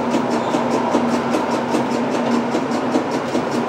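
A steady rumbling roll with a rhythmic clicking beat of a model train running past on its layout track in a train museum, loud and close throughout.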